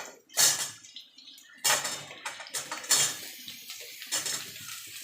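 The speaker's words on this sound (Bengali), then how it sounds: "কুমড়োটা আলুটা একসঙ্গে একটুখানি খানিক নাড়াচাড়া করে নেব" Pumpkin and potato pieces being stirred together in a frying pan, a series of irregular metallic scrapes and clinks of a spatula against the pan over a faint sizzle, close by.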